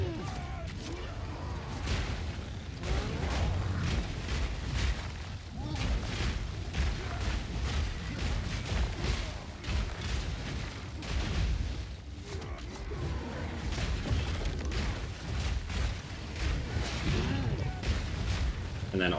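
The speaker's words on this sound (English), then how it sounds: "So you'll see the boss gets stunned very quickly with Wind Blast." Dense game combat from Path of Exile 2 as a Wind Blast skill stuns a boss, a continuous barrage of booming impacts and bursts with rumbling underneath, loud and busy throughout.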